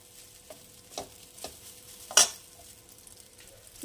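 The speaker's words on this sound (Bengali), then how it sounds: "একটু নাড়াচাড়া করে নেব, তারপরে চলে আসছি পরের স্টেপে।" Vermicelli is stirred in a pan for lemon vermicelli, giving a few quiet, spaced scraping strokes and one sharper clink over a faint background.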